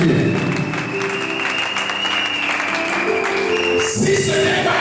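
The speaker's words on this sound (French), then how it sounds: "Acclame Jésus bien-aimé." Worshippers at a church service clap together for Jesus, steady loud applause from a large congregation with a held musical tone underneath and a brief shift near the end.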